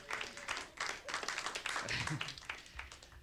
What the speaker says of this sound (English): Give a round of applause to the women.